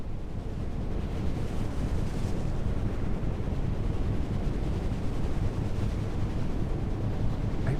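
Wind in the NAUTIS Home Ship Simulator blows at 8.6 knots, a steady, dense rushing roar that holds at an even level for the whole stretch, with no voices.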